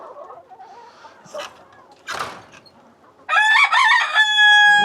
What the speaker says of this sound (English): He's a very happy rooster.